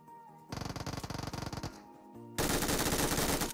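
Bursts of automatic gunfire in PUBG Mobile: a rapid rattling volley, a short pause, then a louder, denser stream of shots close up, with no talking.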